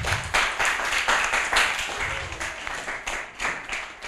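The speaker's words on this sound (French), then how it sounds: "On applaudit Jean-Baptiste." Audience applause after a book reading, a lively burst of close clapping with distinct individual hand claps rising and falling in waves across the whole stretch.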